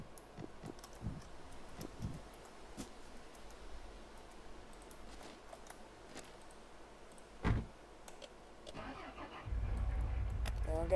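A car in the video game Mon Bazou idles with faint ticking, then its engine starts up and rises into a louder, steady low rumble near the end.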